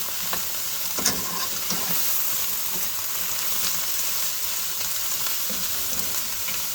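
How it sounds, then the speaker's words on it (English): Steady, moderately loud sizzling of vegetables frying in a pan, with occasional scraping clicks of stirring; no voices. "Hear that sizzle."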